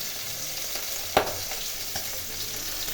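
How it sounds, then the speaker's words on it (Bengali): Cumin, coriander, chilli, tomato and ginger paste sautés in a pan, a soft steady sizzle with one sharp utensil knock and a few faint scrapes. "জিরে ধনে লঙ্কা টমেটো আদা বাটা দিয়ে ভালো করে কষিয়ে নিচ্ছি"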